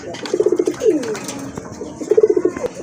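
A pair of mottled desi domestic pigeons coo close by, two rhythmic bursts of soft pulsing coos separated by a drawn-out, swelling call.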